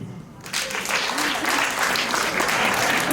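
Applause from a stand-up comedy audience breaks out after a quiet moment and keeps going as a dense, steady burst of clapping with a few voices mixed in.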